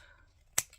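Scissors make a single crisp snip through card, close and brief, in otherwise quiet surroundings.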